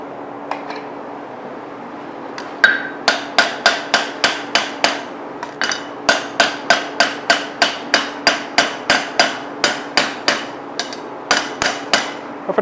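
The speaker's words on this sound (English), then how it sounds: "see if I can get some of this scale off. Some light taps." A hammer taps scale off a forged tomahawk in a long, even run of light, ringing metallic strikes, close and steady at roughly two per second after a few scattered opening hits.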